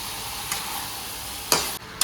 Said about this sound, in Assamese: মাংস মছলা একদম সমানে ফ্ৰাই কৰিম